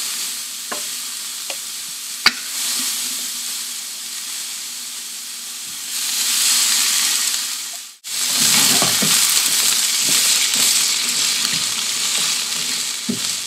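Vegetables for tteokbokki sautéing in a pan, a constant hissing sizzle with a few clicks, a brief dip near the middle, then a louder, fuller sizzle with stirring noises close by.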